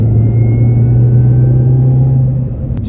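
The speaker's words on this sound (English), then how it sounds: "You can really hear the supercharger whine on this car" A steady Mini Cooper S (R53) engine drone with a sustained low hum and a faint high supercharger whine riding above it, loud and close, fading slightly at the end.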